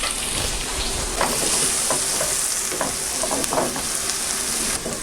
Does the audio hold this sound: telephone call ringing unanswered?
no